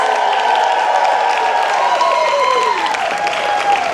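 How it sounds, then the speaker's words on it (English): Passengers at a VIFP loyalty party aboard the Carnival Magic cruise ship cheer and applaud as a large group, a sustained roar of clapping and voices with a rising whoop near the end. "I want to hear you cheer"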